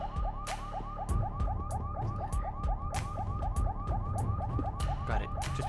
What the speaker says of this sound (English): So this is the siren's going off.